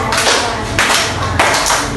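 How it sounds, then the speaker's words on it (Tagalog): A class of children gives a short group clap in a classroom, a few loud, sharp bursts of many hands striking together at uneven intervals, close and unaccompanied by talk. "maaari nyo ba silang bigyan ng 5 palakpak?"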